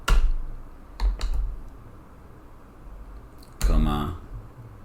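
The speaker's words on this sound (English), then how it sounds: "just typing this again" Typing on a computer keyboard comes in short bursts of clicks, a quick cluster near the start and another dense run later, with a voice talking quietly between them.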